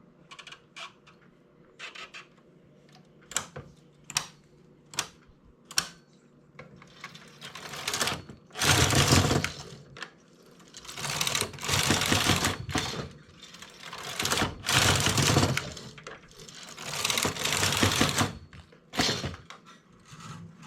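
A domestic knitting machine works a fishnet-stitch scarf with sharp mechanical clacks at first. Long rasping carriage passes follow, each a few seconds long, broken by short pauses and scattered clicks, close and fairly loud.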